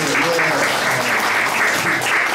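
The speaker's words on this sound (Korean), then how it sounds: "박수 감사합니다" A concert crowd in Gangnam, Seoul, claps throughout, a dense, even roar of many hands, loud and continuous from start to finish.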